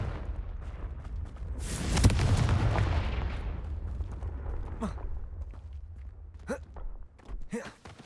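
Confringo fire blast spell in Hogwarts Legacy, a burst of loud booming roar around two seconds in that trails off into rumbling, followed by sharper magical crackles and short whooshing zaps near the end, no talk.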